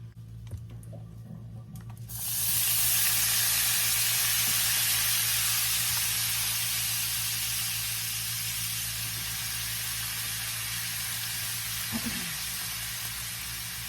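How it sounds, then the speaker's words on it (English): Cabbage sauteing in a pan with bacon, a loud steady sizzle that bursts in suddenly as the cabbage hits the hot pan and continues unbroken, with faint clatter beneath it. "now I'm about to start putting the cabbage, sauteing the cabbage"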